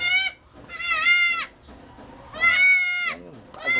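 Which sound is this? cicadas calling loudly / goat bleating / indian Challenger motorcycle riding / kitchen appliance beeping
goat bleating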